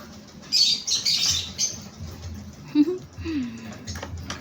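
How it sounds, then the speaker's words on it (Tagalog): Pet parrots giving a few short, high chirps and squeaks close by, scattered over a few seconds against low background noise and murmuring. "Parang parrot sila, oh."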